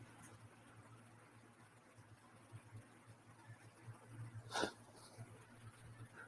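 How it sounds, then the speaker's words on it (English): A single short sneeze from a person, sharp and fairly close, bursts out once near the end over a steady low hum of background noise during a BattleBots robot combat broadcast. "I sneezed because of Quantum because it has a mouth."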